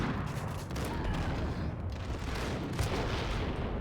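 A grenade explosion in Max Payne, a heavy boom at point-blank range amid a rumbling wash of gunfire and debris, loud and continuous with a brief dip partway through.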